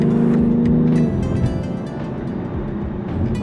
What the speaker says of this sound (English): The S58 motor exhaust is really good.